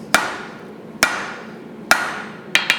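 A blacksmith's hammer forging steel on an anvil while shaping leaves, with three evenly spaced ringing blows followed by a quick triple of lighter taps, close and loud, each strike leaving a short metallic decay.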